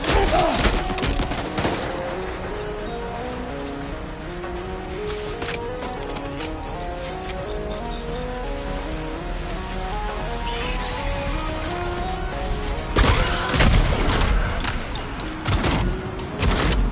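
Gunfire in the video game Death Stranding 2 crackles in rapid, dense bursts over a continuous musical score, swelling into louder blasts near the end.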